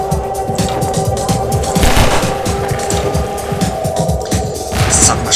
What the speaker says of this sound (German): Submachine Gun, ne?